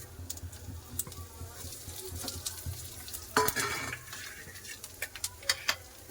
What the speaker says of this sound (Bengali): গোটা গরম মশলা লং এলাচি দার্জিলিং জিরা তেজপাতা একটা শুকনো লঙ্কা সব ফুড়নে দিয়ে দিচ্ছি